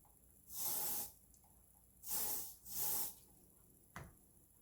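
Hair finishing spray is spritzed in three short aerosol hisses, close and fairly loud with brief pauses between them, followed by a light click.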